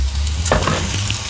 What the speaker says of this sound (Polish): mam dyni, którą chcę teraz delikatnie podsmażyć